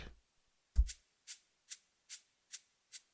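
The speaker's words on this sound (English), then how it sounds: "I'll just drag the tambourine shake to show you what it sounds like" A tambourine shake sample plays in a steady rhythm, six crisp jingly bursts after an opening rattle and thump, close and clear with no voices.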